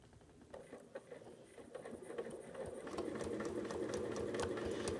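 A sewing machine stitches along a ruler in a quilting setup, starting with a few uneven bursts and then running steadily at a continuous mid-pitched whir and patter, close and fairly quiet.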